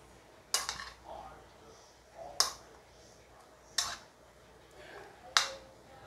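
A spoon mixes a cheesy bread-pizza topping in a bowl, giving four sharp, separate clinks against the bowl spaced over a few seconds, with quiet stirring between them.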